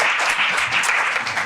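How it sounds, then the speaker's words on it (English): Audience applause at a startup showcase in New York, a dense wash of many hands clapping steadily from start to finish with no voices. "let's give Sarah and everyone up here a round of applause here"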